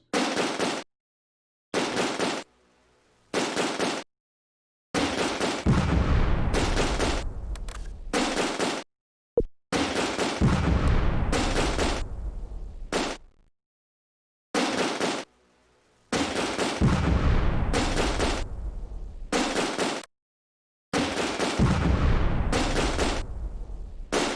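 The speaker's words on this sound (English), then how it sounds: "Those guys are shooting at extreme range." Gunfire from soldiers in the video game Close Combat: A Bridge Too Far, with repeated sharp bursts and single shots. They come in clusters separated by short silences, some loud and close.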